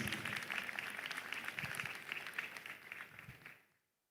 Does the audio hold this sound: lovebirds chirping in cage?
no